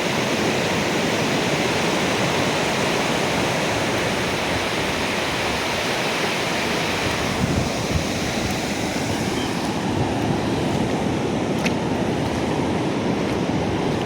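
Surf rolls in at Suryalanka beach, Bapatla: a dense, unbroken rush of breaking sea waves, loud and near, swelling slightly midway, with no one speaking.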